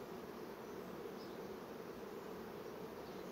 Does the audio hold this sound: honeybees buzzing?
yes